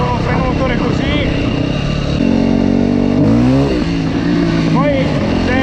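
A Yamaha WRE 450 four-stroke motorcycle engine braking, its loud, close exhaust note dropping and surging in pitch as the revs fall and pick up, continuous throughout.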